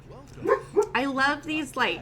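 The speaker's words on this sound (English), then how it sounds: "So if you hear barking in the background, that's her." Leica, a pet dog, lets out a few quick, yippy barks in the background while a person talks over them.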